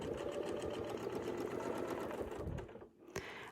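A sewing machine stitching a quilt with a Westalee Gateway ruler hums in a fast, even mechanical rhythm close by, then slows and stops near the end.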